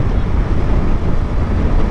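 Heavy, steady wind buffeting the microphone while riding a Suzuki Smash 115 motorcycle at speed past rice fields, a loud continuous low roar with constant rumbling gusts.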